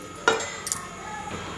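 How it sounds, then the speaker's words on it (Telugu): Tempering spices dropped into about three spoons of medium-hot oil for popannam, a sudden crackling burst of sizzle, then a few small spits and a fading fry, close and without voices. "పోపు దినుసులు వేసేస్తున్నా"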